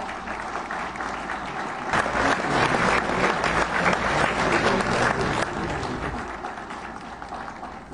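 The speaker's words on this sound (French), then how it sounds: "Je vous demande d'applaudir chaudement, encore une fois, tous les lauréats des examens d'État." An assembled audience at a ceremony honoring state exam laureates gives warm, sustained applause, a dense, even roar of clapping that swells after a couple of seconds and holds steady.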